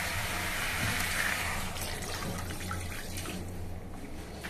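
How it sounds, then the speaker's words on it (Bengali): Hot water is poured into a pan of prawn curry, a continuous splashing, gurgling pour that is loudest at first and then tapers off, with no voices. "এবার একটু গরম জল দিয়ে দিই, গরম জল দিয়ে দিই।"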